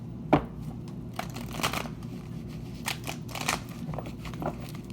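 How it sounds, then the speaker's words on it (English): An old deck of tarot cards being shuffled by hand, with a sharp snap at the start followed by soft riffling and crisp card slaps at intervals, close and fairly quiet. "I'm going to shuffle these like this."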